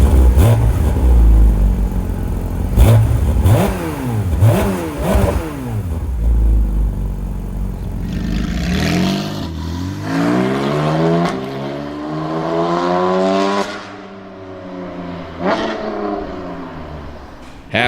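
A Porsche's naturally aspirated flat-six, rated to 9,000 rpm, revs in a track sports car, climbing in several sharp rising sweeps and then screaming through long upshifting pulls, loud and close.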